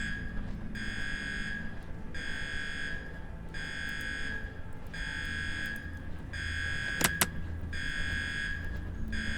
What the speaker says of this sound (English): I'm very upset I can't turn off the alarm.